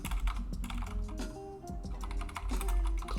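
Rapid clicks of a computer keyboard as a search is typed, quick irregular keystrokes close by with short pauses between bursts.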